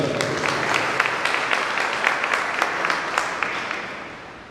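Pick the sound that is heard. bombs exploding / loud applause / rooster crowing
loud applause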